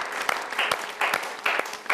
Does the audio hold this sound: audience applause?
yes